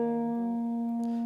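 A lead guitar line: a single sustained note rings close and steady, then a fresh pick shifts the pitch near the end, played alone without speech.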